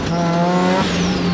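A rotary-swapped Datsun 1200 running with more boost accelerates hard on a dyno-style pull, its engine note climbing steadily in pitch and then shifting up, loud and close throughout, with a hint of tire squeal.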